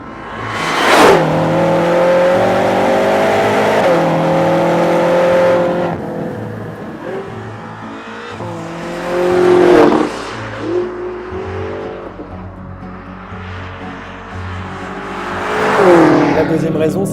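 A 2015 BMW M5 30th Anniversary edition in Sport Plus mode revs hard through several rising pulls and gear changes, a loud engine heard from inside the cabin, with someone talking over parts of it.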